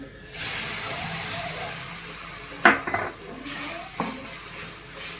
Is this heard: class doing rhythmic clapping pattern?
no